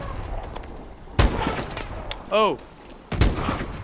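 Gunfire in Call of Duty Advanced Warfare: sharp, loud shots crack out at irregular intervals, one large blast early and another near the end, with a brief rising electronic whine between them and a short exclamation from a voice.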